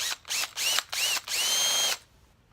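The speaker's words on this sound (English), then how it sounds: "We'll do this in a regular drill though. And make a little hole there." A regular power drill bores a small hole into hardwood on a workbench, running in four close, loud bursts of whining motor that rise in pitch, the last burst longest, then stopping into quiet.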